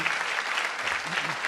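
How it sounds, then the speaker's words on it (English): An audience at a comedy event breaks into a brief, dense burst of clapping to welcome a comedian, with the applause steady and fairly close. "We can give him a big round of applause."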